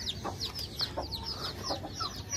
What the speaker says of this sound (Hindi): ये मुर्गा था जनाब